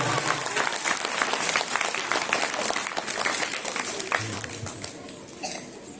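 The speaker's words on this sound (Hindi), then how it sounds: "ताली बजाइए ईश्वर के नाम से।" A church congregation at a prayer teaching session claps together, brisk rhythmic hand claps in a dense burst that tapers off toward the end, with some crowd voices mixed in.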